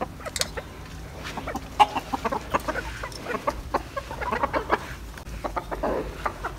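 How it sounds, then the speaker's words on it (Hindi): A flock of hens let out in the evening in a Pakistani village clucks in scattered, overlapping bursts, moderately close and steady throughout, with no talk over it. "तो अभी हम इन मुर्गियों को भी निकाल देते हैं"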